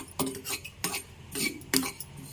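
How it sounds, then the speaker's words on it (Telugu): Sesame seeds crackle in hot oil as ragi flour boorelu fry, giving a few sharp pops and clicks at irregular intervals over a low background hiss, close by, with no voices. "చక్క దోరగా వేపుకోవాలి చిట్టపట్టలాడుతున్నాయి చూసారా"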